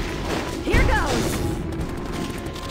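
One sharp gunshot from the video game Valkyria Chronicles bursts out early, followed by a ringing, downward-sweeping tail over steady game background noise.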